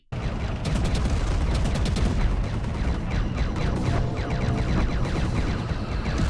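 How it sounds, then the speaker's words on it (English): Fire Warriors and Imperial Guard of the Death Korps of Krieg trade fire in an animated Warhammer battle: loud, dense, sustained volleys and crackling bursts that overlap without pause, with no talking. "both factions are just firing into each other, destroying everything on the other side"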